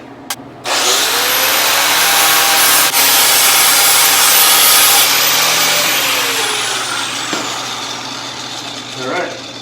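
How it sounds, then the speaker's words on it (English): Paint is shaved off a bolt on a 1966 Chevrolet C10 to make a ground connection. A loud, steady, high-pitched power-tool whine spins up abruptly, holds for several seconds, then winds down. "Let me just shave some paint off a minute."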